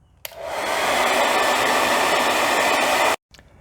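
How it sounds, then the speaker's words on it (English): A hair dryer blows steadily at close range for about three seconds to soften a strap while changing the side badges on a BMW Z3, switching on abruptly and cutting off sharply. "hit it with the old hair dryer"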